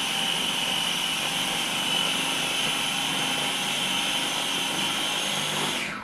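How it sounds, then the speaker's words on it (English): A food processor pulses tuna until finely chopped, a steady loud whirring motor noise running continuously for about six seconds before cutting off abruptly at the end, with no talking. "we're pulsing it until it is chopped fairly fine."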